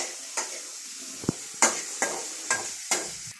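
Onions sautéing in salted butter in a pan for spaghetti, with a steady soft sizzle under several sharp stirring scrapes and utensil taps spaced about every half second, close up, no talk.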